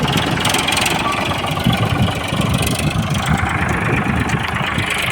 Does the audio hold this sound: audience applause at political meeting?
no